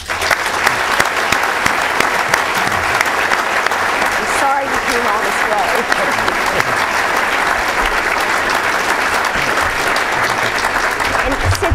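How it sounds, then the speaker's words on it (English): A room full of people at a breakfast event keeps up a long, loud round of applause, a dense unbroken patter of hands, while a voice briefly speaks over it. "if we could first please give everyone a round of applause"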